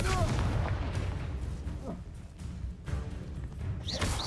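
A Confringo fire spell explodes in a Harry Potter video game with heavy booming blasts over dense rumbling battle noise, while voices shout over the action.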